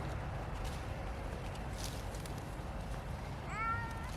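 A short meow rises near the end over a steady background hum, close and fairly soft.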